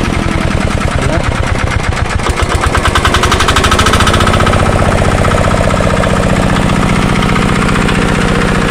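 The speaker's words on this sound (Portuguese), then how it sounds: "ele roda na manivela, pessoal. Virar aqui, é o motor de tobato." A hand-cranked Tobata diesel tractor engine chugs close by in a fast, steady thumping rhythm, loud and mechanical, settling into an even idle after a few seconds.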